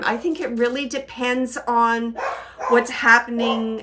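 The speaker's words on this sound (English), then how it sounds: "Whenever I do this work, my dog goes bonkers." A dog barks repeatedly and excitedly close by, sharp yaps scattered through the clip while a person keeps talking over them.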